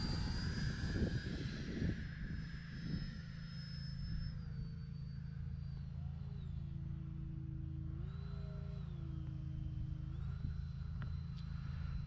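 An E-flite Habu RC model jet flies with a steady ducted-fan whine and shifting pitch as it passes, carrying a continuous broadband rush with no talk.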